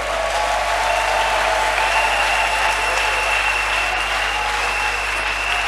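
A church congregation claps in acclamation of Jesus Christ, a sustained, even wall of applause carried on a steady low hum, with no speech above it.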